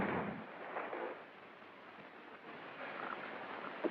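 Gunfire on the crackly, hissy soundtrack of a 1936 British science fiction film, with scattered muffled bursts and pops under a constant layer of broadband noise.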